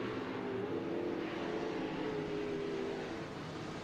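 SportMod race cars running at Junction Motor Speedway, a steady, continuous engine roar from the pack holding at a constant level with a faint rising tone, no voices.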